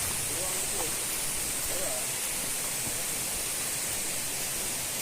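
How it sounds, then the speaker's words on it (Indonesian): The Kuta Malaka waterfall pours in a steady broadband rush, a constant hiss of falling water heard from a distance without pause, with faint voices barely surfacing beneath it. "Ini adalah air terjun Kuta Malaka di bawah."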